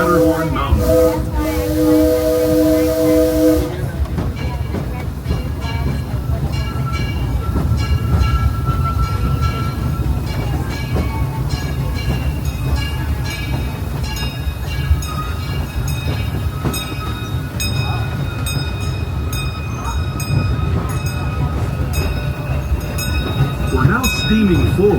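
The Disneyland Railroad steam train rolls along the track with a steady, loud rumble, wheel clatter and hissing steam, continuous throughout. A brief tonal sound opens the stretch before the ride noise settles in.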